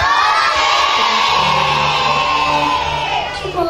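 A crowd of kindergarten children and adults, with a teacher, shout together in a loud, sustained group yell after a count of three, on an outing to Jogja; the cheer holds steady and fades slightly at the end.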